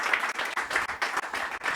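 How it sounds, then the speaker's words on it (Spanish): A church congregation claps together in rhythm during a Spanish-language service, the applause steady and fairly close, rising and falling in regular bursts with no talking over it. "¿Cuántos le dan un aplauso al Señor en esta tarde?"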